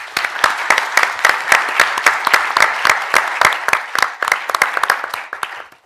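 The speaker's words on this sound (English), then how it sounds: "I will ask for a big applause to all these very" Loud, close applause for a research panel at a conference, with crisp individual claps standing out over a dense crowd patter that holds steady and then tapers off at the end.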